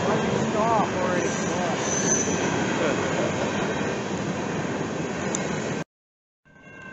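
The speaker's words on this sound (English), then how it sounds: "That was a very long train." A very long train rolls past nearby with a steady, loud roar of wheels on rails, faint squeals rising above the rumble, before the sound cuts off abruptly and quieter noise resumes.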